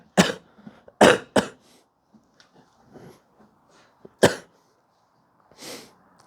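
A person coughs several times in short, harsh bursts while a lesson pauses. The loud coughs come in a quick cluster, then return with gaps between them, alongside faint throat clearing and breathing. No words are spoken.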